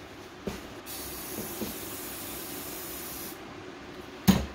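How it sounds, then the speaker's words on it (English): A steady hiss of spray paint on the eyes of a pool-noodle spider runs for about three seconds, a continuous close aerosol spray that starts and stops cleanly, with small clicks around it. "the solvent in the spray paint will actually help to clean up any any residue"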